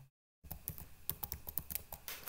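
A computer keyboard being typed on at a desk while entering an address, heard as a short silent gap and then a quick run of close, crisp key clicks with no voices.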